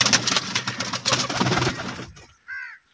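Pigeons coo softly with a rustle of wings and movement, followed by a short, clear coo near the end.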